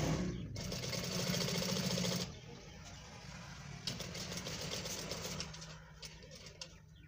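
A sewing machine stitches a cut-band collar in a steady, close mechanical hum that runs for about two seconds, then drops into a quieter, intermittent whir.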